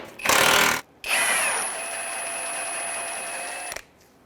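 A power tool whirs in two bursts, a short one and then a longer, steadier run with a high whine, as a 19mm bolt is backed out of the lower control arm on a 2003-2011 Honda Element.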